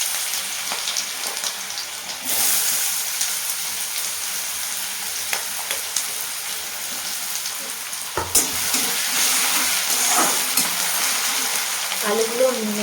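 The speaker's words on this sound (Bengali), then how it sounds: "এর মধ্যে এবার আলুগুলো দিয়ে দেবো।" Potatoes tossed into hot oil with chilli and cumin sizzle steadily, with a loud burst of fresh frying partway through and stirring scrapes, close up.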